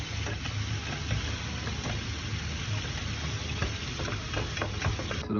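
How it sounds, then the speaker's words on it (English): Buffalo sauce for chicken wings being stirred in a pan, a steady low sizzling bubble with faint scraping, continuous and close throughout. "I'm making the buffalo sauce right now. Give it a little stir."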